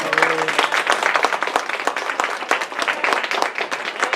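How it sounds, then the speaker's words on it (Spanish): Church congregation applauding during a Sunday sermon, brisk irregular hand claps close and lively, a crowd clapping throughout. "Yo que usted le da un aplauso, Señor."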